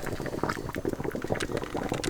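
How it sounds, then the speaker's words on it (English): Deer tallow bubbling and boiling in a pot as it renders, a steady dense crackle of small popping bubbles throughout, close and moderately loud with no voices. "this is kind of a balance to keep it boiling enough to actually work and not make a mess"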